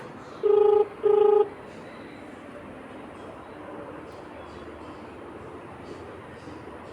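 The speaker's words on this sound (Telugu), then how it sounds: "ఇది రింగ్ అవుతుంది." Two short electronic phone ring tones sound in quick succession, followed by a quiet line hiss; faint background noise continues without further rings.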